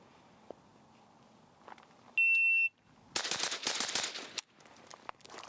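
A suppressed PSA Krink rifle fires in burst mode at an outdoor shooting range, with a shot timer's sharp beep followed by a dense, rapid string of muffled cracks close by.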